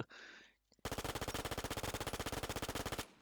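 Submachine gun fire in a shooter video game: one long, loud, rapid and evenly spaced automatic burst of about thirty shots lasting roughly two seconds, preceded by a brief softer noise, with no talking.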